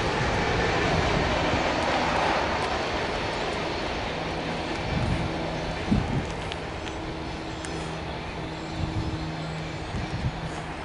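A CSX mixed freight train rolls past nearby: a dense, continuous rumble of rail cars with rhythmic clunks and rattles of wheels over joints, loud and steady throughout, with no talk.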